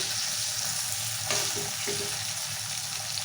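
Green chillies fry in a pan for a tomato chutney, a steady close hiss of sizzling oil with a few brief stirring clinks in the middle.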